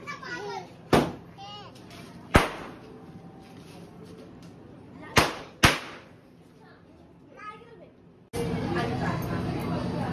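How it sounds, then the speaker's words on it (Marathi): A few loud firecracker bangs go off at intervals nearby at a house doorway, with children talking and shouting in the background between bursts. "सर्व मुलं आमच्या इथे दरवाजामध्ये फटाके वाजवत आहेत"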